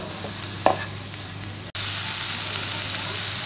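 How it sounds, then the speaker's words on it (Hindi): Potato-chicken filling with black pepper fries in a pan, giving a steady broadband sizzle with a brief clatter of stirring and a short dropout midway, and no voices. "इसे हमने कुछ मिनट के लिए फ्राई किया।"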